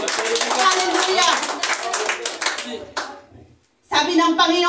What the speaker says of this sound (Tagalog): Sige, palakpak po yan sa Panginoon.